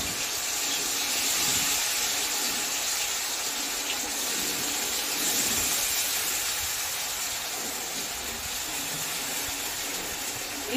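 Steady hiss of food frying in hot oil in a kadhai, a continuous sizzling spray that stays fairly loud and even throughout, with no talking over it.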